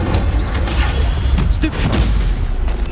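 Protego and Incendio spells cast in Hogwarts Legacy, a loud, busy clash of magical bursts, thuds and whooshing flares packed together with booming low rumble and brief bright flashes over about three seconds.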